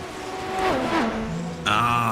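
Race car engine in the iRacing video game, a Super Formula car at Road Atlanta, revving hard with rising and falling pitch, then a sharp throttle jump near the end, loud and close with no talk.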